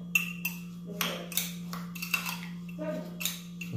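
A tablespoon stirs a creamy mixture in a pan, giving a series of light metallic scrapes and clinks at an irregular rhythm over a steady electrical hum.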